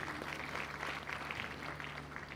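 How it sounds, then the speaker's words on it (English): An audience at a university inaugural lecture applauds, a soft, steady patter of many hands clapping heard from a distance over a low hum in a large hall. "So a round of applause for her there."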